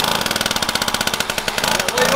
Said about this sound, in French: cette moto les gars, elle a démarré en 2 coups